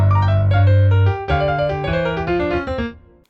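Keyboard with both hands playing the octave descent from a song's solo: a sustained low bass note under quick, busier right-hand notes that step downward, clean and close.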